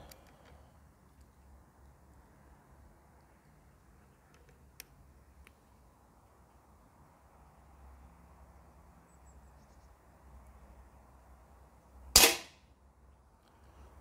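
A Feinwerkbau P8X air pistol fires a 4.5 mm pellet of 7.72 grains, a single sharp, loud crack arriving late after a long quiet stretch of faint room hum and a few tiny clicks.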